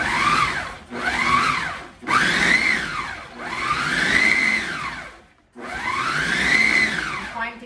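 A blender pulses pumpkin sweet potato pie filling made from whole foods in four loud whirring bursts, each motor whine rising and falling, separated by short silent gaps.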